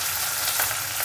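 Curry leaves hit hot oil in a frying pan while a breakfast dish is being cooked, giving a steady, close sizzling hiss that stays fairly even for about a second.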